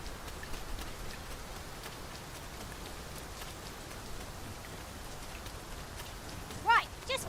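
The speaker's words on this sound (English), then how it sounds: "It started raining, Master." Steady rain hiss in the video game Dragon's Dogma 2 fills the scene, broad and even, with a few brief brighter tones near the end.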